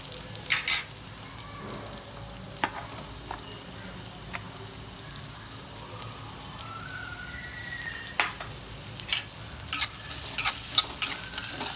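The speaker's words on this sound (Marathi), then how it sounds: "नंतर मी यात कांदा टाकते" Onion frying in a pan with garlic for a dry bombil and methi dish, a steady soft sizzle with occasional sharp scrapes and clinks of a spoon stirring against the metal.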